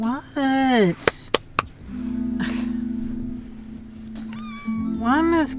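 A cat meows loudly and close by, twice, with a few sharp knocks and a sustained hum between the calls.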